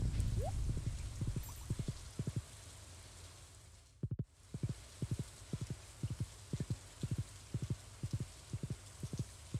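Horse hooves clip-clopping at a walking pace in a video game, crisp regular double knocks repeating close by over a soft rain-like hiss, briefly pausing partway before resuming.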